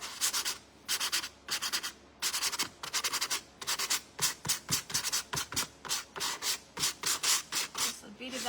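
Paper on a vintage magazine rack is sanded back during decoupage, making close, scratchy strokes in a steady back-and-forth rhythm that repeats about twenty times, with no talking.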